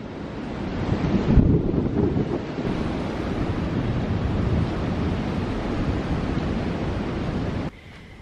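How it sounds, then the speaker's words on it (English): Wind roars steadily, buffeting the microphone with a heavy rumbling gust throughout, then suddenly drops off just before the end. "It's a windy day today."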